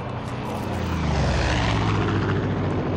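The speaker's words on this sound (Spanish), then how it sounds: "el maldito helicóptero, chaval, que me ha asustado" A helicopter in the video game Far Cry 5 sends out a loud, steady rotor and engine drone that holds close and constant for the whole stretch, with no talking over it.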